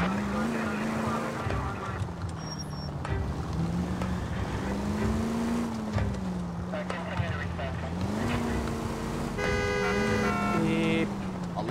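Steady engine drone of a car driving in the video game LA Noire, rising and falling with throttle, with game sounds and a brief horn-like tone layered on top.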